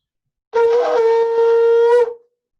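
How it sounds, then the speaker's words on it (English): A single loud, brassy horn blast from a shofar, held steady for about a second and a half before cutting off abruptly. "three different kinds of sounds that you make with a shofar"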